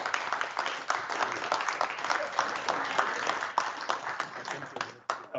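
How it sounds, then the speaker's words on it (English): Sustained applause from an audience at the opening session of a cartography conference, dense steady clapping filling the whole stretch with no talk over it, tapering briefly near the end. "So let's all please give a warm round of applause for Nick Krisman"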